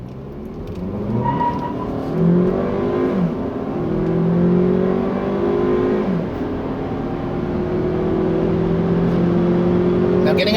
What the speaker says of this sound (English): getting up to highway speeds here in the Sportage, it's relatively easy